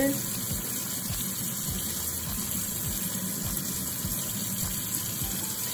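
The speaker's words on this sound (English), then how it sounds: "Let's wash this off and see what it looks like. Okay. We have our water." Water runs steadily from a tap, a constant rushing hiss with occasional low thumps, fairly loud and close, with no talking.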